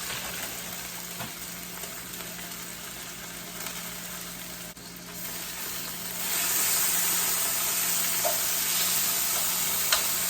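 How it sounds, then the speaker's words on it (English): Sausage sizzles while frying in a pan for breakfast poutine, a steady crackling hiss that runs the whole time and grows louder and brighter partway through, with no talk. "Look at that sausage frying in there."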